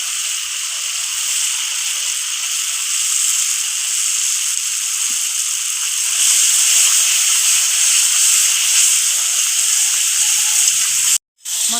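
Spice paste for a jackfruit and prawn curry sizzles steadily in a pan, a loud, continuous, close frying hiss with no break until a brief cutout near the end.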